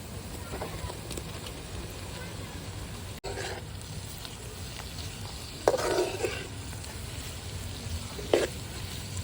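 Cleaned goat boti (tripe) frying with onions, chillies and curry leaves in a village kitchen, a steady low sizzle with a few louder stirring scrapes near the end.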